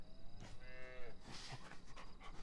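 Bulls low in the video game Planet of the Apes: Last Frontier, a deep, drawn-out moo rising and falling over a background game ambience, with no voices over it.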